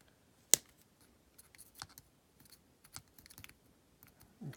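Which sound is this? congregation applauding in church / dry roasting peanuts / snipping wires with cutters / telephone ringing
snipping wires with cutters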